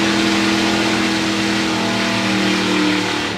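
The Opus HRF, a Hot Rod Ford drag racing car from early British drag racing, roars close and loud, its engine held at a steady high rev for a few seconds.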